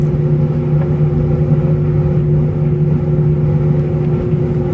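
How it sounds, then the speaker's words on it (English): The gas burner flame of a steam dryer howls during the heating cycle, a loud, steady, low roar with a constant tonal hum that never changes. "This is a gas dryer, so that howling sound you hear is the flame."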